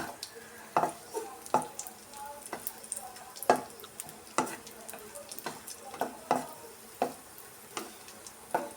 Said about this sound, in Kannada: ದ್ರಾಕ್ಷಿ ಗೋಡಂಬಿ ಚೆನ್ನಾಗಿ ಫ್ರೈ ಆಯಿತು